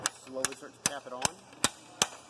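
Sharp metal-on-metal taps from a seating tool driving a bearing onto an Eaton Fuller transmission input shaft, six evenly spaced strikes about every 0.4 seconds, close and crisp with a faint ringing between blows and no talk.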